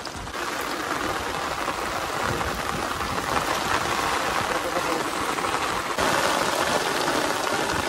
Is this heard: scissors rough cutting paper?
no